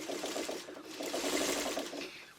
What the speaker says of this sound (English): You're basically gently sewing this curve